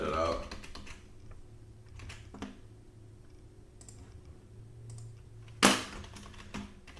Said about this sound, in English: actually let's just type this